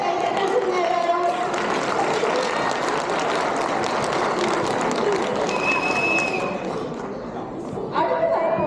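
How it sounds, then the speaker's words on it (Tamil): A crowd at a stage event applauds on cue, a dense sustained roar of clapping and cheering that carries for several seconds, dips briefly, then swells again, with faint voices mixed in. "ஒரு வழக்க கைத்தட்டல் சொல்லுங்க எல்லாரும்"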